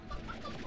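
Chickens clucking on a ranch in the Slime Rancher video game, soft scattered clucks and murmurs from several birds, faint and low in level, with no speech over them.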